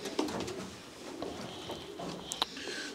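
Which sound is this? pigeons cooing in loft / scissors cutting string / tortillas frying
pigeons cooing in loft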